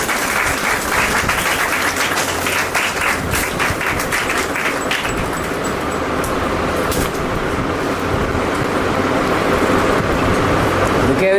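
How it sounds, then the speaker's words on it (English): An audience at an Oriental College of Education and Research event gives a long, loud round of applause, a continuous dense wash of clapping with some voices murmuring through it. "Everyone please give a big round of applause"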